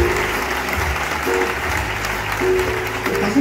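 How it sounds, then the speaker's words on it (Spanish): Audience applause at a big band concert in Alcalá, a dense, steady wash of clapping from a crowd with a faint tonal hum of instruments or sound system beneath. "Y mi querida compañera Josefina, un aplauso para ella, por favor."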